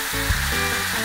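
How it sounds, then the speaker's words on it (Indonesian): Catfish and chicken pieces deep-frying in a pan of hot oil for a pecel lele street meal give a brief, steady, broad sizzling hiss at close range. "Biarkan dah ya semua lauknya ini berendam dan bertemu dalam lautan minyak panas sampai mateng."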